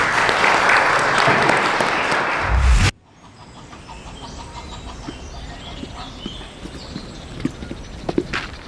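An audience at an Opera Air event applauds to welcome the head of Opera Air, Mohammed Salah, a loud sustained wash of clapping that stops abruptly, followed by quiet outdoor ambience with scattered footsteps.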